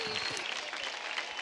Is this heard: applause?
yes